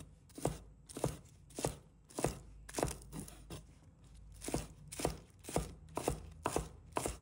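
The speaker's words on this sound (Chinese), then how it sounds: "1把小葱，把它切成小粒。" A knife chops a bunch of spring onions into small bits on a cutting board, giving a dozen or so crisp, close thuds in a fairly even, brisk rhythm with no talking.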